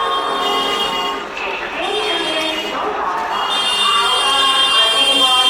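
Train standing at a station platform as passengers board a coach, with a steady mechanical hum, a faint buzzing tone and muffled crowd voices and talking throughout.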